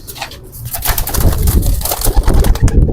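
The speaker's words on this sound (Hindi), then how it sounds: "ये भाईजान के कबूतर हैं जो इस साल सीजन उड़ने हैं।" Flight pigeons in a loft in Sialkot, several birds cooing in overlapping throaty calls close by, steady and loud, with faint rustling movement.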